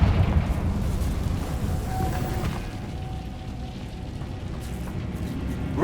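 A Confringo blasting spell in the Hogwarts Legacy video game goes off as a loud, rumbling fiery explosion. Low boom and crackle fill the scene and fade slowly, with faint tonal game effects sounding above it.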